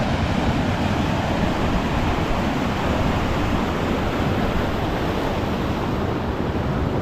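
Elbow Falls in Kananaskis in late March, a steady loud roar of rushing deep water that fills the whole stretch without letup.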